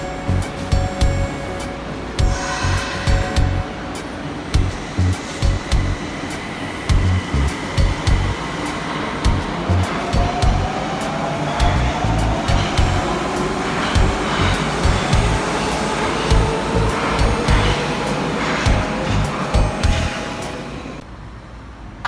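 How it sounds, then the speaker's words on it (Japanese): Electric commuter train 2122H pulls away from an underground station platform, a long rising whine of traction motors building over rumbling wheels and steady clatter, with echoing station ambience throughout. "とりあえず降りて、ここまで乗ってきた 2122H を見送ります"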